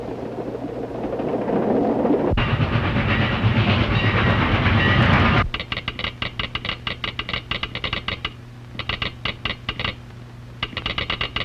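A train runs on rails, a broad rushing roar building for several seconds before giving way to a steady, loud clickety-clack of wheels over rail joints in rapid rhythmic bursts with brief gaps.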